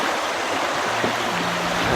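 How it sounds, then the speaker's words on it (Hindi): Fast-flowing stream water in Shahdara Valley near Islamabad rushes steadily and loudly, a continuous broadband roar close by with no voices. "और पानी आप देखें कितना तेज़ पानी है ये"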